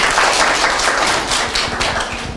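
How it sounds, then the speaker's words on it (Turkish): A roomful of young pupils claps throughout a classroom report card ceremony in Siirt, steady crowded applause with individual claps popping out up close. "Medine'de bir alkış alalım."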